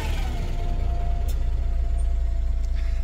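Bus rumbling past on a nearby road, a steady low engine drone with a faint whine, close and fairly loud throughout.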